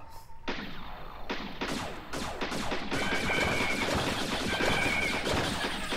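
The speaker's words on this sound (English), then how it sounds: "You just shoot the UFO, dude." Rapid video-game shooting sounds from Wii Play's UFO-shooting game come as dense bursts of blasts and bright zaps that keep building into a continuous loud barrage.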